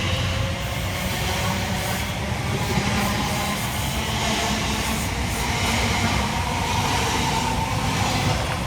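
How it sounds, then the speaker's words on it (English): An Elizabeth Line train, unit 345051, pulls out of Taplow station on the Great Western Main Line, a steady loud rumble and rolling roar throughout with faint rail clatter and no talk. "we see the departure of 345051 working the 11:23 Elizabeth Line service from Abbey Wood through to Reading"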